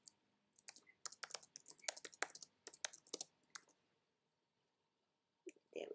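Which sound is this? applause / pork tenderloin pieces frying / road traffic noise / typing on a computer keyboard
typing on a computer keyboard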